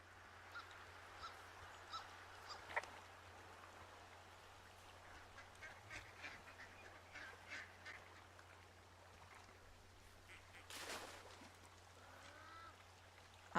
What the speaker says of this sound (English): I'm hearing ducks.